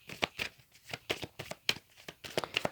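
Tarot cards being handled and turned over on a table, giving a series of soft, quick flicks and snaps spaced irregularly across a few seconds, close and fairly quiet.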